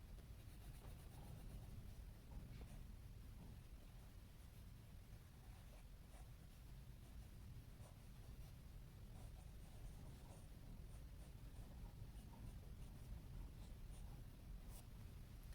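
A Jinhao X750 fountain pen with a 1.5 stub nib scratches across paper in a quiet, continuous run of close, soft strokes with no speech.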